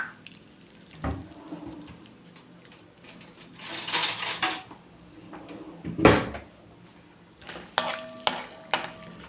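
Peanuts rustle and sizzle in hot oil with turmeric as a spoon stirs them, with several louder bursts of scraping and clatter in between.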